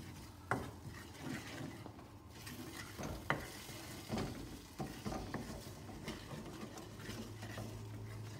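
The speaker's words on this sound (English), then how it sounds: "just cook it off in the pan." Green Thai curry paste cooking in a pan gives a soft, steady sizzle and fry, broken by a few sharp clinks and scrapes of a utensil stirring against the pan; close, fairly quiet, no talking.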